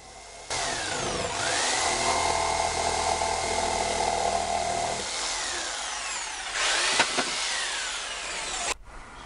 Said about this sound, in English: The shelf was too long, so I cut it down with my jigsaw.